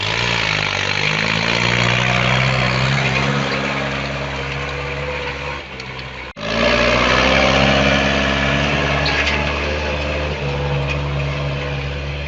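A motor cultivator plowing a long-rested vegetable garden plot in preparation for winter, its small engine droning steadily and close, with a brief dip and sharp jolt midway before resuming at full loudness.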